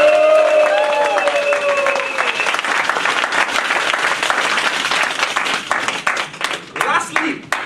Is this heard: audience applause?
yes